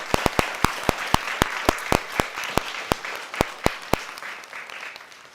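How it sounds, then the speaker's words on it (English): An audience at a women in politics national conference in Edinburgh applauds the panelists, with sharp distinct claps in a steady rhythm ringing out loud and close, fading toward the end. "Let's just all give them a big round of applause."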